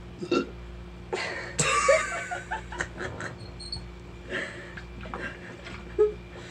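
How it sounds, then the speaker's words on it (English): A loud, abrupt burp stands out among softer throaty sounds and mouth noises, close to the listener. "another side effect for drinking water is burping."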